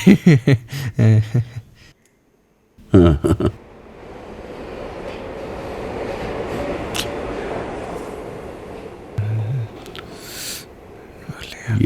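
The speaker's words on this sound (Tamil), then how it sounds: "ட்ரெயின் வந்துச்சு சீனியர்." After brief bursts of nearby voices, a steady rumbling roar of a passing train swells and holds for several seconds, with a short voice near the end.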